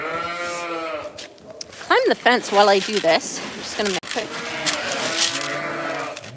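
Sheep and goats bleat in loud, wavering calls near and far at farm chores while someone talks over them close by.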